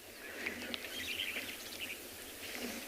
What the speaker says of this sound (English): Starlings are particularly noisy.